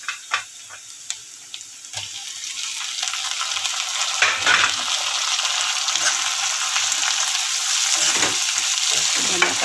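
Chopped tomatoes tipped into half-fried onions in a pan for a whole masoor and potato curry, sizzling loudly and stirred, with scattered scrapes and a watery hiss that grows fuller as it goes on.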